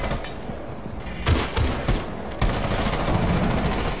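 Rapid gunfire in the multiplayer shooter Rainbow Six Siege comes as several loud bursts of automatic fire over a steady noisy game background, with a few sharper heavy shots standing out.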